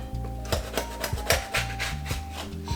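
A spatula scrapes under freshly baked chocolate chip cookies, making close, repeated rasping scrapes and knocks against the pan.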